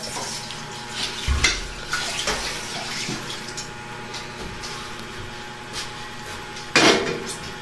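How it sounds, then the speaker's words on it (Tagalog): Water splashes and runs while a frying pan (kawali) is washed in a home kitchen before the cooking oil is heated, with scattered knocks and scrubbing, a louder burst near the end. "Hinugasan po yung kawali bago pakuluin ang mantika."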